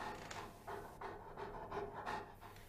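A dog pants in quick, rhythmic bursts of breath, close and fairly quiet, repeating steadily with no voices over it.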